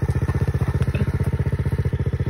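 A dirt bike engine runs steadily nearby, its rapid even firing pulses thumping and rattling in a continuous loud idle with faint mechanical clatter.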